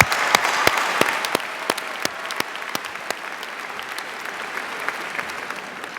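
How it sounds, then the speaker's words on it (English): A graduation convocation audience claps steadily, with sharp individual claps standing out over a dense bed of applause that slowly thins. "give yourselves a round of applause"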